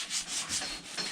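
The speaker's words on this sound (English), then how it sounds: "busy sanding away on the hood" Hand sanding on the hood of a 1952 Ford F1 truck, a few short, soft rubbing strokes in a steady rhythm, faint and close with no voices.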